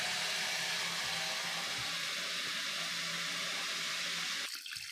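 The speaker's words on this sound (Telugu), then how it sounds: "చూడండి చేపలు కడుగుతున్నాము" Fish are washed under water in an outdoor cooking setting, a loud, continuous rush of running water that cuts off abruptly near the end.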